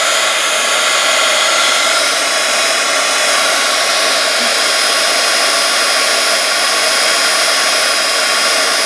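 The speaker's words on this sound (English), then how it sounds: "Be very careful when you're using your heat gun." Heat gun melting embossing powder on transparency film for 3D butterflies, a loud continuous close blowing roar, steady throughout with no pauses.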